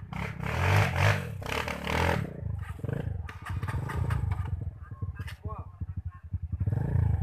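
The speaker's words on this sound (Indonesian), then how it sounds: "Masih digas, masih digas, masih digas." A hard enduro dirt bike engine revving under throttle, rising and falling in loud rough bursts with clattering, while people talk and shout nearby over the noise.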